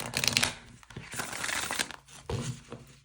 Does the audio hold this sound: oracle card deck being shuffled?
yes